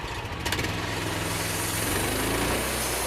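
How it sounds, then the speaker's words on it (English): A homemade bandsaw sawmill engine, thought to be a cammed 327 small block, idling roughly with a loud, lumpy, uneven rumble close by and no talking. "The old sawmill sounded like it's got a cam and a 327 small block, but I don't know why it idles like that"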